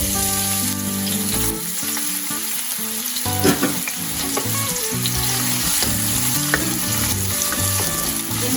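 Three medium sliced onions hit a cup of hot oil and sizzle loudly and continuously, a dense frying crackle with stirring, under background music and no talk.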